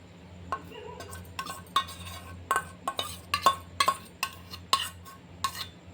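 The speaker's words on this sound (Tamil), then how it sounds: "வெண்ணெயை இப்போ மெல்ட் பண்ண போகிறோம். நல்லா அப்படியே கலக்கி விட்டுட்டே இருக்கணும்" Unsalted butter and dark compound chocolate are stirred in a pan, metal utensil clinking and scraping against the pan in an irregular series of sharp taps, close and fairly clear over a low steady hum.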